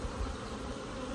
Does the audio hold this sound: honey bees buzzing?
yes